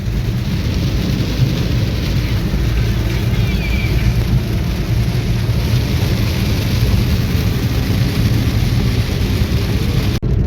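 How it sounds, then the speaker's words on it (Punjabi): Heavy rain pours down steadily near a Baba Deep Singh gurdwara, a loud, dense, unbroken roar with no voices, ending in a brief click. "ਮੀਂਹ ਬਹੁਤ ਤੇਜ਼ ਆ ਗਿਆ"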